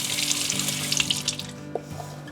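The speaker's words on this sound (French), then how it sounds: "Non, je vais rincer quand même pour éviter des larmes." Tap water runs steadily into a kitchen sink as sliced onion is rinsed under the faucet, a continuous near splashing stream with a low hum beneath and no voices.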